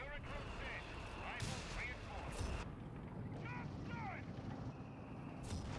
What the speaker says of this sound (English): Airburst barrage doing a ton of damage,